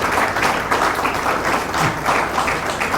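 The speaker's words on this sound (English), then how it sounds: "Let's give him a warm round of applause." Audience applause at a Nation of Islam-style address, steady dense clapping filling the whole stretch without a break, broad and sustained like a large crowd in a hall.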